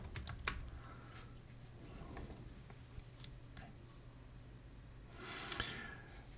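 Quiet keystrokes on a computer keyboard as a template name is typed, a scattered run of soft clicks over low hum, with a quick burst of taps near the end.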